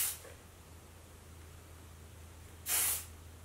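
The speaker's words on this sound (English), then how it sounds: "give it a little spritz of my favorite hairspray on the planet" Short hiss of Kenra hairspray spritzed onto hair, one faint burst at the very start and a clear, close spray of about half a second near the end, over a quiet low hum.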